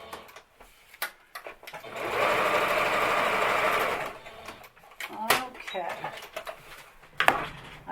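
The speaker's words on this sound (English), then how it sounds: "So I've stitched it a little bit there." Sewing machine doing decorative stitching on a book: a close, steady mechanical whir lasting about two seconds, surrounded by clicks and handling noises, with someone speaking nearby.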